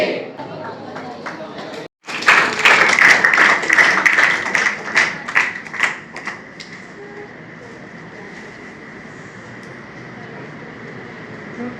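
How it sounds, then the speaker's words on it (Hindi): After a brief gap, an audience bursts into dense, loud clapping that holds for a few seconds before tapering off into scattered claps and then a quiet room tone. "तालियां बजती रहे।"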